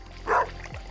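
A short single dog bark-like yip from a dog in the video game Stardew Valley, heard once at moderate loudness amid quiet game background.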